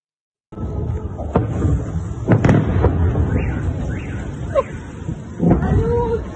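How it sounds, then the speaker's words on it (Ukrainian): Explosions in a Ukrainian wartime setting, several sharp bursts and booms over a rumbling background, with distant whistling or screeching sounds in between and voices faintly under the noise. "всі вибухи вони тепер сприймають як святковий салют"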